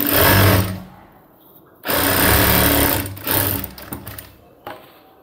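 An electric sewing machine stitches a cargo half pant, running in loud, rapid bursts: two longer runs, then several short stop-start spurts with quiet pauses between.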